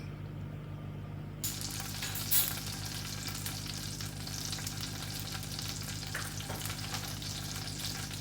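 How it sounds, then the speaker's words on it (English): Three tablespoons of butter hit a hot stovetop pan as the start of a cheese sauce, breaking into a steady, close sizzle with a brief louder crackle early on. "I'm gonna put 3 tablespoons of butter down because I'm gonna make a cheese sauce right now."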